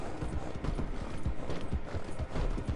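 Horse hooves clip-clop at a steady trotting rhythm in the video game Red Dead, loud and close with faint mechanical clatter underneath.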